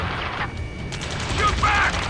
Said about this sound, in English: We're cut off! Taking fire! We're pinned down!